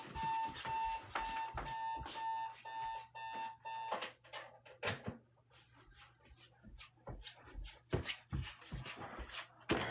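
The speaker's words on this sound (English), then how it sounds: "That's my alarm clock." An alarm clock rings with repeated bright electronic beeps for about four seconds, then stops, leaving scattered rustling and handling sounds at close range.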